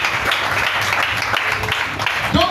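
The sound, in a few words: church congregation applauding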